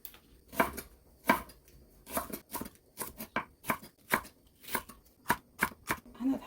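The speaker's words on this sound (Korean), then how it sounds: "조금 두께감 있게 썰어주세요." A knife chops food on a cutting board in a home kitchen during Korean halfbeak braise preparation, cutting fairly thick slices: a steady run of a dozen-plus crisp, close strikes with brief gaps and no talk.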